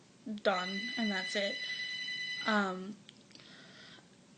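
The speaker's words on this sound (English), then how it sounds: "Sorry that the phone is ringing." A house phone rings in the background with repeated electronic trill bursts, and a person keeps talking over it the whole time.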